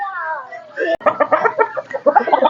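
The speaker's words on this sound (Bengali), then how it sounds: "স্ক্রিনে যে মুরগিগুলো দেখতে পাচ্ছেন, এগুলো হচ্ছে কলম্বিয়ান লাইট ব্রাহ্মা।" Columbian Light Brahma chickens on a farm cluck in a close, busy burst of short calls, with a longer drawn-out call near the start and a sharp knock partway through.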